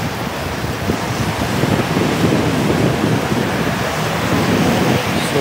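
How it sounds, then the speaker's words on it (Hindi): Heavy rain pours down at Masjid al-Haram in Makkah in a steady, loud, unbroken roar with no pauses. "तकरीबन पिछले 20 मिनट से लगातार बारिश हो रही है मक्का मुकर्रमा में"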